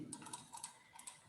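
Light, quick keystrokes on a computer keyboard tap in an irregular rhythm, close but quiet, with no talking over them.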